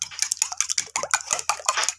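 A fork or whisk beating egg and evaporated milk together in a bowl, producing rapid, steady metallic clicking strokes, close and brisk, with no speech.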